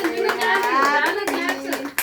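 Hands clap in quick succession at a family Mother's Day gathering, the claps fairly close and mixed in with overlapping children's and adults' voices talking throughout.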